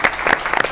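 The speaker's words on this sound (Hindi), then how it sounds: "आए चलो, बहुत सी ताली होनी चाहिए" A studio audience on a Pakistani comedy quiz show claps in an uneven burst of applause, with separate claps popping out sharply at close range.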